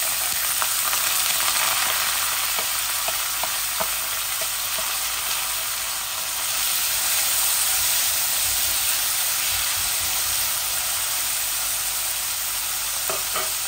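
Chicken legs fry in a pan with a large onion, ginger and garlic, making a continuous loud, hissing sizzle with occasional soft scrapes and pops throughout.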